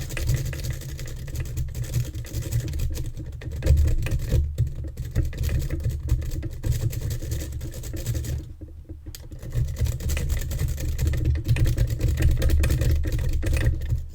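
Rapid scratchy clicking from a lock pick raking the pins of a Union oval cylinder lock, whose circlips have been removed from the back, continues over a steady low rumble throughout.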